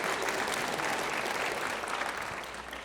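Steady audience applause in a church hall, a dense wash of many hands clapping at even strength before tapering off slightly at the end.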